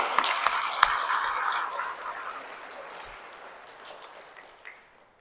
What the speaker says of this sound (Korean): 여러분 다혈질들 위해서 박수 한번 쳐주세요.